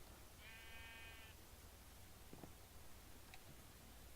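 A sheep in the video game Minecraft gives one short, wavering bleat, faint against a quiet background, followed by a couple of soft clicks.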